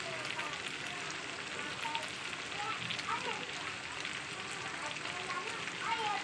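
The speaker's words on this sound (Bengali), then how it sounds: "এটাও আবার এক পিঠ ভাজা হয়ে গেলে আমি তুলে নেবো" A snack frying in a pan, giving a steady, dense crackle and sizzle of hot oil that runs without a break for several seconds at moderate level.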